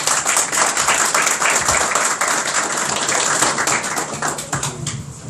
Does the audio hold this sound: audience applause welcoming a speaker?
yes